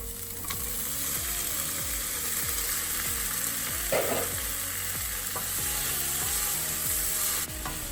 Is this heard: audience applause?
no